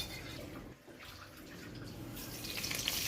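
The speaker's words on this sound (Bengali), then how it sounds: "এক কাপ আতপ চাল ও অন্যটাতে এক কাপ মুসুর ডাল নিয়ে ভালো করে ধুয়ে জল ঝরিয়ে রাখতে হবে" Raw rice and red lentils washed in water, a steady rushing of running water with light splashing, close and continuous, growing a little brighter toward the end.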